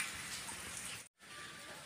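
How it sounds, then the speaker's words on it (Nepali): Light drizzle falling in a village setting, a steady soft broadband hiss of rain that runs continuously with a brief full dropout near the middle. "अहिले चाहिँ सिमसिम सिमसिम पानी परिरहेछ"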